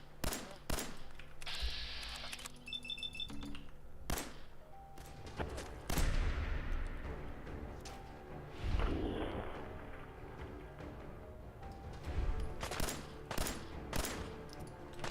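Gunfire in the Fallout 4 video game: sharp, scattered shots at an irregular pace, some near and loud, others fainter, over an ambient game background, with no talk.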